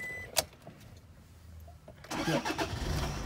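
A 2012 Toyota Hilux SRV 3.0 turbo diesel starts up, with a sharp click followed by a brief quiet spell, then the engine cranks and catches into a rough, close idle.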